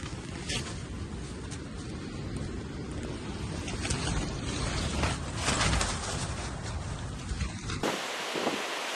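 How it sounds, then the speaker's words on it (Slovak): Strong wind gusts steadily at a night campsite in Paklenica, a loud, continuous roar buffeting the microphone with rising and falling surges before cutting off abruptly near the end. "tak extrémne fúka, že balíme stany"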